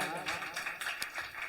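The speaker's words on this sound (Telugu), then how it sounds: "మా చెల్లెమ్మ పల్లవికి కొట్టండి, చప్పట్లు గట్టిగా" An audience clapping for Pallavi, a brief spell of scattered claps that sound fairly soft and somewhat distant, with speech partly under them.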